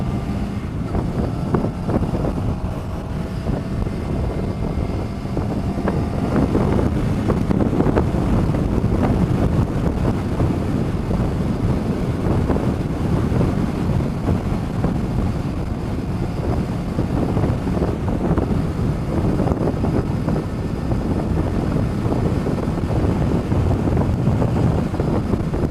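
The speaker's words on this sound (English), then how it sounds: "It's a windy day." Wind buffets a car moving at highway speed on a windy day, a constant loud rushing roar with turbulent gusts and road noise, no voices.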